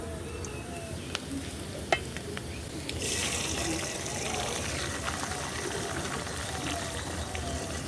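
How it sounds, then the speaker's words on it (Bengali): An egg cracked into fried onions sizzles in a pan for a banana-blossom dish: a faint frying hiss with a couple of clicks, then a fuller, steadier sizzle once the egg lands, moderately quiet with no talking. "এখন আমি এই যে একটা ডিম এখানে দিয়ে দিব ভাজা পেঁয়াজের ভিতরেই"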